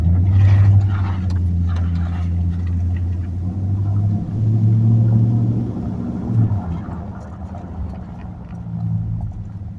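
A Chevy engine with a 4L60E automatic transmission idles and runs steadily, a loud low rumble holding close and continuous, with a brief bump in level partway through.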